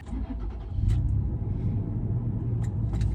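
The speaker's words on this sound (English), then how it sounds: "Every time you start it, it just makes the most amazing like intake noise or like vacuum noise or something." A 2014 Toyota FJ Cruiser with its V6 while driving, giving a steady, deep engine and intake rumble that swells slightly early on and then holds, heard from inside the cabin with no speech.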